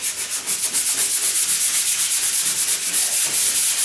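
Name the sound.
sanding a wooden door by hand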